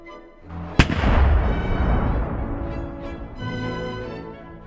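A cannon fires in the Minecraft Create mod: one sharp, loud blast followed by a long rumbling roar that fades slowly over several seconds, with no voices.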